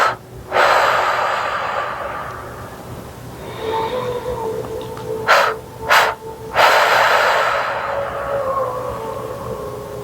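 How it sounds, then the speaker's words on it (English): Slow, steady breathing in and out through the nose during a guided calming meditation: long, close, airy inhales and exhales with brief sniffs between, and no talking. "breathing in through the nose and out through the nose"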